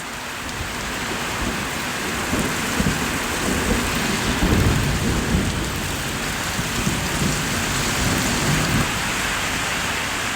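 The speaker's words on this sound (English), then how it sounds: "It's raining really fucking hard right now." Heavy rain pours down in a dense, constant roar with deep rolling thunder swelling through the middle, loud and close with no voices.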